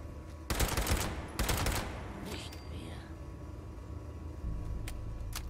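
Two short bursts of rapid automatic gunfire in the video game Fallout 76, loud and sharp, followed by quieter game sounds and a faint whoosh, with no speech.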